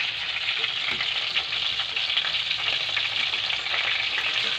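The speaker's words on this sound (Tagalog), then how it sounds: "Ganyan po tayo magprito mga kalabs" Food fries in hot oil with a loud, constant close-up sizzle that holds steady throughout, a few faint stirring knocks beneath it and no talking.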